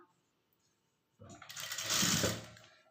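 After a second of near silence, a sewing machine starts up and runs steadily, loud and close, stitching three blouse pieces together with a half-inch seam.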